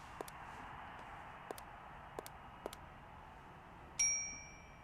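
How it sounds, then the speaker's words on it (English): A single bell rings in the video game Syberia, a bright struck ding near the end with a long shimmering decay, following a few faint soft clicks over quiet ambient background. "Of course, we gotta ring the bell."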